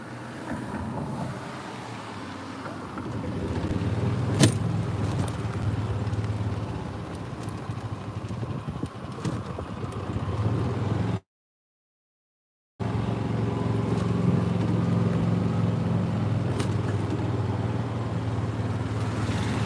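Cars going by on a road while a golf cart waits in The Villages, Florida, a steady close wash of engine and tyre rumble with wind buffeting the microphone, cut by a brief total dropout midway.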